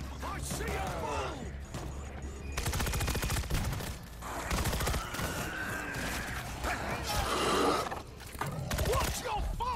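Bursts of gunfire from a World War Z match set in Jerusalem, loud and dense, mixed with shouting voices and game effects throughout.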